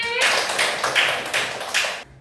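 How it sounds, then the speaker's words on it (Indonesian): Students in a classroom clap in unison for a classmate during a lesson, four short pulsing bursts of clapping close by, then a sudden stop into quiet. "Beri tepuk tangan untuk Fatir"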